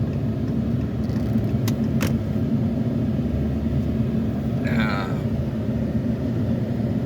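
An RV drives and turns through busy roadside traffic, its engine and road rumble a steady, loud drone throughout, with brief clicks and a short passing whine partway through.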